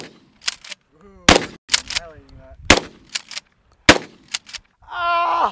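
Several sharp, loud 12-gauge shotgun blasts in uneven succession outdoors, each a sudden broadband crack, with people's voices talking and exclaiming between shots.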